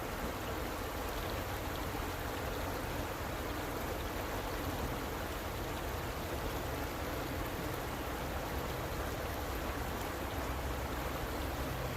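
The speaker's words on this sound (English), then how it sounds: "Put Chad to sleep with all this moving water noise." Steady rushing water of a stream where winter catfish fishing is underway, a continuous broadband hiss and gurgle that holds an even level throughout with no voices.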